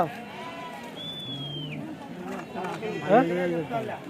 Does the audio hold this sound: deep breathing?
no